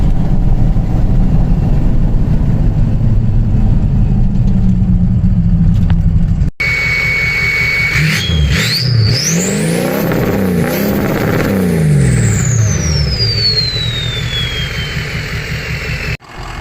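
An old diesel Ford Super Duty pickup engine idles with a low, steady rumble, then sharper rising and falling whines sweep over the motor's drone.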